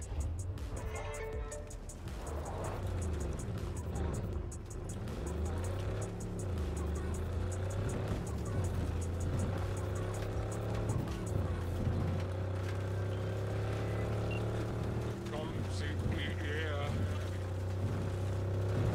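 A car engine drives steadily in the video game Cyberpunk 2077, a continuous droning hum with shifting pitch as it accelerates and settles, under someone speaking German throughout.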